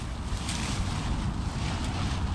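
A river rushes steadily past a rocky bank, a close, loud and continuous wash of broadband water noise with no talk over it.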